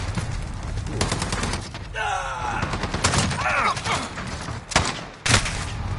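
Dense gunfire from a Call of Duty: Modern Warfare match played on PS4, with rapid bursts, heavy thumps and explosive grenade-like blasts; a voice talks over the loud, continuous combat.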